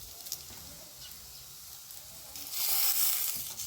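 Spinach tikki crisping in a hot pan gives a soft, steady sizzle that swells louder toward the end, with faint clinks and no talking.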